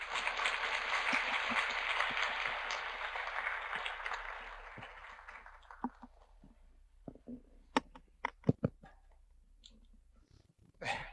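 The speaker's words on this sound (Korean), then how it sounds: "큰 박수로 환영해 주시기 바랍니다." An audience at a science high school admissions briefing applauds to welcome the principal, a broad wash of clapping that fades after about five seconds and leaves scattered clicks and small noises.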